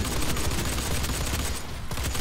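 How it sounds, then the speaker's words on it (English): Continuous automatic weapon fire in the Doom beta, a loud dense stream of shots that pauses briefly near the end before resuming. "This thing is extremely inaccurate if you keep firing."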